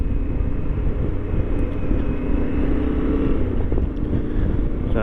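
A Yamaha Ténéré 700 motorcycle is ridden, its engine giving a steady, loud low rumble with a constant droning tone that never lets up, and no voices.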